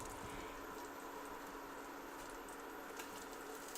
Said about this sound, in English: Now this is just sizzling away beautifully here.